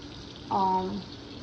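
Very hot water running briefly from a tap into a sink while a milk bucket is rinsed, a short steady gush rising then easing off over soft background hiss.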